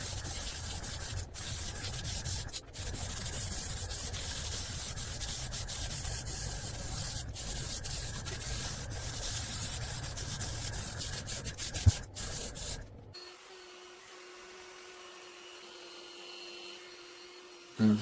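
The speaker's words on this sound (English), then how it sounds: "I've just got the Dremel 4300 with the 125 bit in there" A Dremel 4300 rotary tool fitted with a 125 bit works on wood, making a close, steady high-pitched grinding whine broken by brief gaps. After about thirteen seconds it winds down to a quieter, lower hum.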